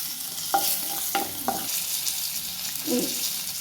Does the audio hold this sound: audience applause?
no